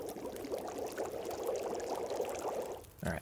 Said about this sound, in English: Let's boil the water.